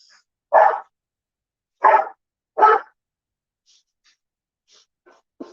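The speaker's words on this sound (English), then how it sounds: "Anybody would think I had an army of dogs." Dogs give three sharp barks in quick succession in a quiet room, followed by a few faint, soft yips and a short final bark.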